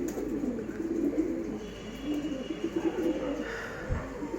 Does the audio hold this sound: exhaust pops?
no